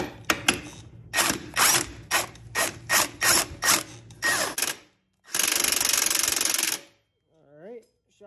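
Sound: ratchet tightening shock bolt on rear axle

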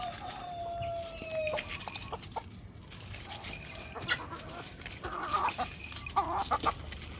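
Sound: chickens clucking at feeding time

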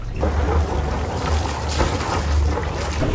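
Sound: Dufour 460 sailboat engine running

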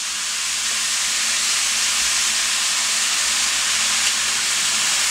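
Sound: vegetables and bowtie pasta sizzling as they're stir-fried in a pan

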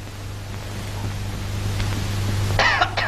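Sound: cough

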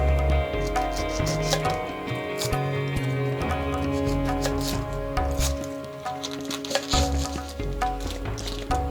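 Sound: chopping onions

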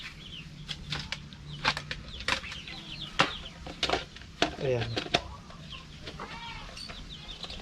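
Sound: chickens clucking in a mini-farm coop

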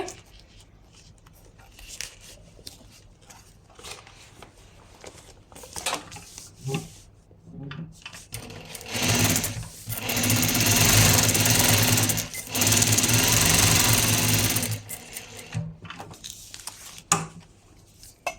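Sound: sewing machine stitching over fabric

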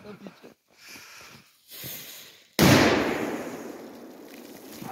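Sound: firecracker exploding in water

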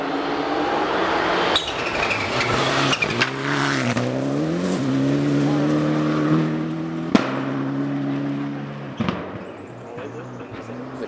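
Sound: Mirage rally car driving past

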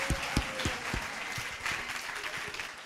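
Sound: applause for two talent show contestants

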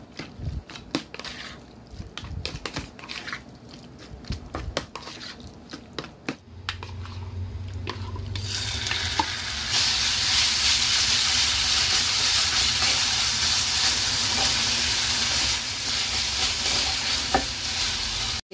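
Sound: stirring onion and chicken frying in a pan

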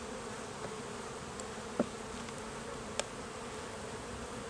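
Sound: bee buzzing near a beehive

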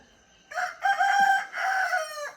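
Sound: rooster crowing in the morning

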